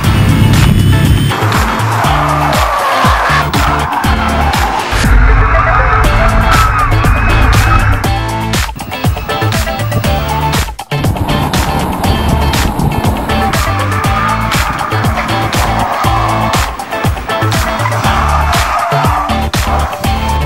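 An electric Factory Five 818 sports car runs on a race track, giving a loud, continuous motor whine with rushing road and tire noise that rises and falls as it passes close by.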